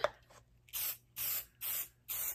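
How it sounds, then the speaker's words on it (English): Four quick bursts from a spray bottle onto batik fabric, evenly spaced, each a short sharp hiss with quiet gaps between them. "spray again,"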